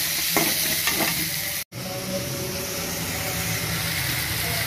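Prawn thokku masala with turmeric sautés in a pan, a steady close sizzle with scraping stir strokes early on and one brief dropout before the frying hiss carries on alone.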